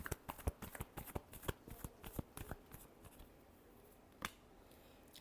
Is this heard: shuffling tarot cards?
yes